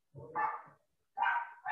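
Dogs bark outside in two short, clear barks about a second apart, moderately loud, with nothing else heard.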